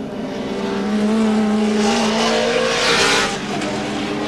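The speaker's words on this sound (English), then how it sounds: "there's Moffat in the ANZ car." Touring race cars at Mallala circuit during a 1989 Australian Touring Car Championship round, engines roaring loudly and continuously at close range with a rising, sustained drone and some tire noise, no talk.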